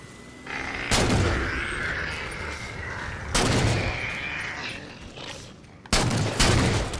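Bursts of DMR rifle fire from the Halo 4 video game ring out in three loud clusters, each sharp onset followed by decaying rumble over a busy game soundscape.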